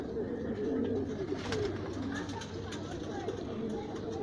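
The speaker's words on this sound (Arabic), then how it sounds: "برضه الحمام بيشخور عليهم وبيفضل يجعر عليهم" Domestic pigeons coo in a loft, soft throaty burbling calls that repeat at close range beneath someone talking over them.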